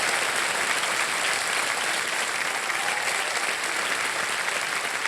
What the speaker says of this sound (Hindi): तालियां बज जाए जोरदार इशिता जी के लिए